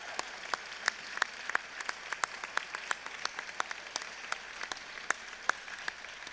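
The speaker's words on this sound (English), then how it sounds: "Well done, one more applause." Audience at a world championship ceremony giving a round of applause, scattered, fairly sparse claps from a smaller crowd with distinct individual hand strikes, heard at a moderate distance.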